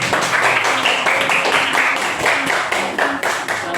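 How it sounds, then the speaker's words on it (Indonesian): Schoolchildren in a classroom lesson clap for the squirrel group, a close, loud burst of hand claps that falls into a quick, roughly regular rhythm. "tepuk tangan untuk kelompok tupai"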